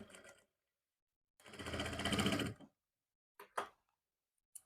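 A sewing machine stitches a salwar seam in one brief whirring burst, framed by a few quick clicks and mechanical ticks before and after, with no talking.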